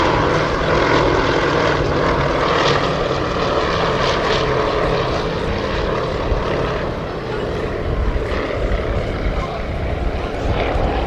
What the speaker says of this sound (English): the formation is a YAKOVLEV YAK 18T, which is a 4 or 5 seat cabin machine, accompanied by 2 YAK 52s